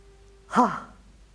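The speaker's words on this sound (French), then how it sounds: "Let's take a deep breath in Prenons une profonde inspiration and breathe out through the mouth." A single deep breath is pushed out through the mouth in a soft, close sigh that swells and fades in about half a second.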